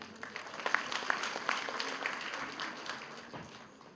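An audience at a University of Mumbai felicitation ceremony claps for a singer, a dense burst of applause with sharp individual claps that gradually fades toward the end.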